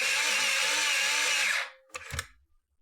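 An Arteza electric pencil sharpener grinds an already sharpened pencil with a steady, close, high-pitched whirring buzz for about a second and a half, then stops, followed by a couple of light clunks and rattles.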